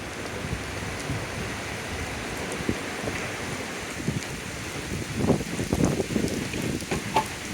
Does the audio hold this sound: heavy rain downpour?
yes